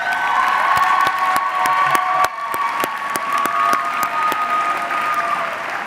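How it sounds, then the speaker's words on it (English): A commencement crowd at a health sciences college graduation gives a graduate a steady round of applause with some cheering, sharp individual claps standing out near the front of the sound. "Please give Bowl a round of applause."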